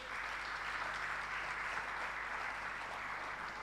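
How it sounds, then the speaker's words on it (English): An audience applauds finalists at a sustainability and circularity event, a steady, even wash of many hands clapping at a distance, soft but continuous with no speech. "please give them a round of applause"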